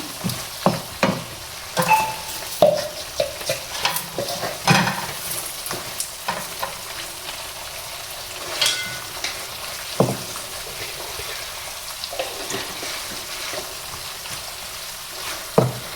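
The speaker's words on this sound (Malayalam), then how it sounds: "ഇനി നമ്മളിതിലേക്ക് കുറച്ച് ചില്ലി ഫ്ലേക്സ് ഇട്ട് കൊടുക്കണേ. അപ്പം നന്നായിട്ട് ഇളക്കി കൊടുക്കണേ" A pan of chicken masala shawayi with chili flakes stirred on the stove: soft scraping strokes and clinks over a steady low sizzle, close up, with no voices.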